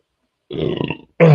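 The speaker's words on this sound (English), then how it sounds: "burping today, y'all." A man lets out two close, loud burps in quick succession, the first a longer rumbling one and the second short and forceful.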